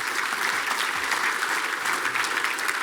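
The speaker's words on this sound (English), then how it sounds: "Could you please give a big round of applause for Suresh and Susan?" Audience applause at a payments conference after a fireside chat, steady dense clapping from a large crowd filling the whole moment without pause.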